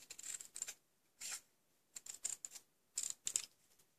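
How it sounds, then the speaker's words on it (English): Scissors cut a paper card in half with a series of quiet, crisp snips in short bursts and small pauses between them, heard close up. "I'm going to take my scissors and I'm just going to cut this clean in half."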